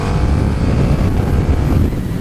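A KTM Super Duke R motorcycle at speed, its engine a loud, steady low drone mixed with heavy wind rush over the microphone.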